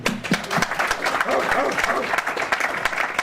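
An audience applauds at a pre-event mixed martial arts press conference for Cage Rage UCMMA 23, with steady clapping from a room full of people while voices talk over it.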